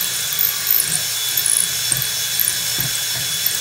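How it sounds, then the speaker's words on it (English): A pole reams a channel through a foam core wing, making a steady broadband hiss with faint scraping and soft irregular thumps as the pole works back and forth, close and moderately loud, with no talking. "with this pole here, you want to give it a little ream in each direction"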